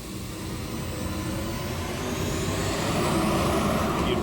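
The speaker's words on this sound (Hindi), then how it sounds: "वो देखिए, वो ड्रोन लैंड कर रहा है।" A drone flies overhead with a steady, broad engine-like drone that swells slightly louder toward the end, with no voices.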